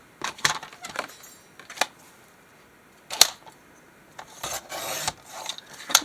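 Scissors cutting an old time card down to size, heard as a few separate crisp snips and rasping cuts with short pauses between them, close and fairly quiet with no talking.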